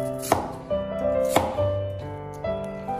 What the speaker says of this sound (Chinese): 接着把洋葱切成这样的小块